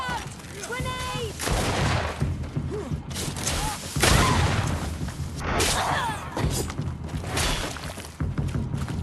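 Gunfire and booming blasts in Greedfall, a grenade explosion among them, with several heavy thuds and shots scattered through a chaotic fight and voices shouting in between.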